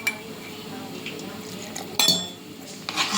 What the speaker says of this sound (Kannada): ನೋಡ್ರಿ, ಈ ಥರ ಪೂರ್ತಿ ಹದವಾಗಿ ನಾವು ಇದನ್ನು ಮಿಕ್ಸ್ ಮಾಡ್ಕೋಬೇಕ್ರಿ.